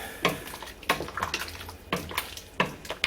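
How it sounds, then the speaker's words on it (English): Light cream being stirred into a pan for chicken Celestine: a few short scraping, clinking strokes of a utensil against the pan, spaced about a second apart, close and fairly quiet with no talking. "And we stir that in."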